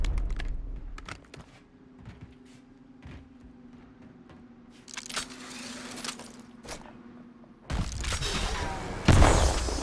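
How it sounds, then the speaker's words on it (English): A fresh magazine gets loaded into a rifle in a sniping video game, with several metallic clicks and rattles against a quiet hum, then louder bursts of clatter and impact noise close by. "Loading fresh mag."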